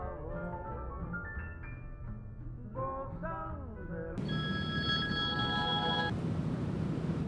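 A mobile phone ringtone plays, a melodic tune followed by a brighter, sustained electronic ringing pattern, fairly close and steady.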